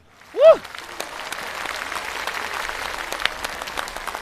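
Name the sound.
studio audience applause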